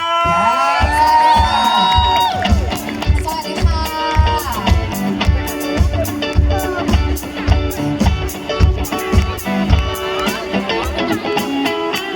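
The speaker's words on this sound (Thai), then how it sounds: "ขอเสียงปรบมือ" Crowd cheering and whooping at a university faculty music performance in Chiang Rai, Thailand, loud and sustained, with rhythmic band beats and voices throughout.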